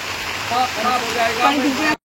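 Steady rushing of flowing water, loud and close, with a voice faintly mixed in before it cuts off abruptly.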